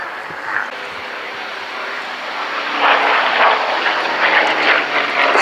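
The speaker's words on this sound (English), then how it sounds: "Squadron Leader Discom conducting the Spitfire display for this year" A Supermarine Spitfire's piston engine drones through a flying display, a steady, fairly loud propeller roar that swells slightly as the aircraft passes overhead, with no other sounds competing.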